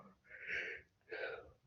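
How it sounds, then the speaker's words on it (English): A person yawns, two breathy drawn-out exhalations separated by a short pause, faint and close. "excuse me, I was yawning."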